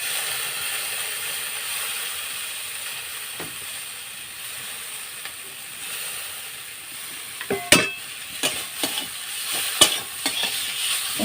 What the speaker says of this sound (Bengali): দেখুন কিভাবে কষা হচ্ছে